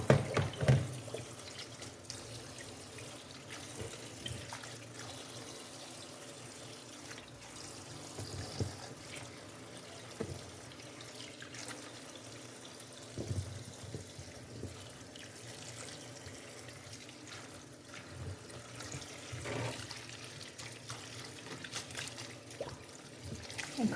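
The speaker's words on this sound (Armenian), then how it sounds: "հոսող ջրի տակ նորից կլվանա" Tap water runs over a strainer being rinsed in a kitchen sink, a soft continuous trickle with occasional clinks and splashes, fairly faint and steady, no talking.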